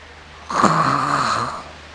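A church congregation imitates snoring together: one loud, drawn-out rasping snore lasting about a second.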